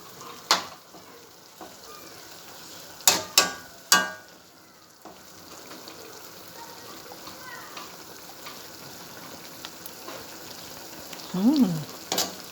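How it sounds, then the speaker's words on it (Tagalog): String beans cooking in vinegar in a pan for adobong sitaw give a steady low sizzle, with a few sharp clatters of a utensil against the pan and a brief hiss of steam or stirring near the end. "Ayan guys, lutuin natin mabuti yung vinegar"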